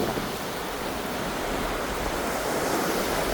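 Surf rolls steadily onto Khem Beach on Phu Quoc, loud and continuous, with a broad wash of breaking waves and some wind noise.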